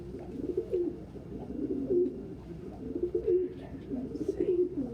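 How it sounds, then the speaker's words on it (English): Pet pigeons or doves coo softly indoors, a repeated series of low, rolling throaty calls in a steady rhythm, fairly quiet and close. "So the three birds we are considering for the top of the retirement list right now are Mia, Sissy, and Sun Tzu"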